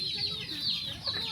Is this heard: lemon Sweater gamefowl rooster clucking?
yes